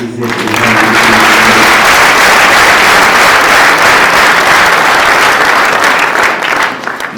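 Loud, sustained applause from a large gathering of local residents thanking a church choir, a dense roar of many hands that swells quickly and holds for several seconds before easing at the end.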